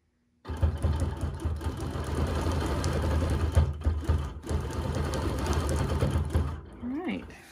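Sewing machine running steadily through free motion quilting, a loud continuous mechanical whir lasting several seconds before stopping, with brief talk near the end.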